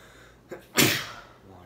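A single sneeze, sharp and close, preceded by a quick inhaled gasp and trailing off in about a second.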